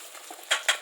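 Meat added to mustard oil with fried onion, ginger and garlic sizzles softly in a pan, with two sharp clattering stirs of a spoon against the pot near the end; no talking.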